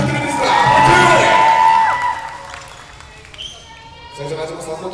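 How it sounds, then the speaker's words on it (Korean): Spectators at a women's club basketball final cheer and shout loudly for a couple of seconds, then the noise drops to a quieter murmur with scattered voices and squeaks on the court. "여러분 응원의 박수를 부탁드리겠습니다"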